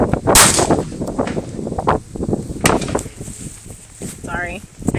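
Several sharp .22 rifle shots fired in quick succession from a small rifle, close and loud, scattered among muffled outdoor handling noise and a brief chirping sound near the end.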